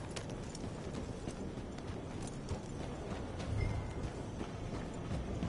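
Horse hooves clip-clop steadily on hard ground in a Western setting, a continuous run of close, evenly paced strikes under a busy outdoor background with no talk.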